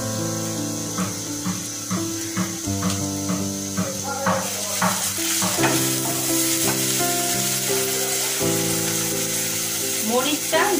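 Spices frying with softened onions in a pan for beef curry give a steady, close sizzle with occasional stirring scrapes, running under background music throughout.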